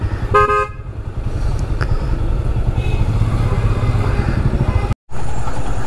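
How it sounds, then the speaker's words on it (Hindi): Car horns toot through a long traffic jam on a mountain road descending from Mussoorie, heard from a motorcycle. Short honks sound over a steady, loud engine rumble and road noise. "यहाँ पर ट्रैफिक लग गई है लंबी सी"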